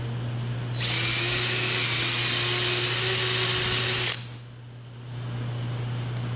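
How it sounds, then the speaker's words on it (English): A power drill whines steadily at high speed for about three seconds, close and loud, drilling out screw holes in a door threshold, then cuts off, leaving a low background hum. "So I'll drill out the rest of these and then we'll countersink them."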